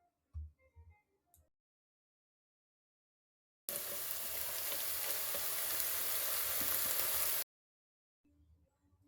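Onion sautéing in a pot over a campfire gives a steady, dense sizzle lasting about four seconds, standing alone between stretches of near silence, with faint soft sounds at the start and end.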